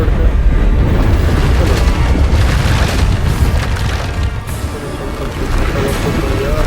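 Repeated Bombarda spell explosions in Hogwarts Legacy boom heavily and continuously, a loud rumbling barrage of blasts that eases slightly toward the end.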